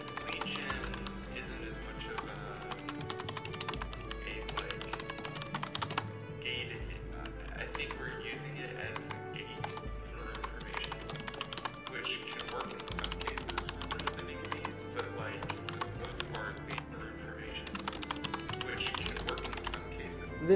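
Rapid, uneven clicking of computer keys being typed up close, in bursts with short pauses, continuing steadily for a long stretch.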